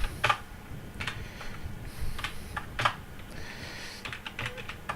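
Computer keyboard keys tapped in quick irregular bursts while text is copied into a makefile, clicks close and fairly crisp over a steady low room hum, no talking.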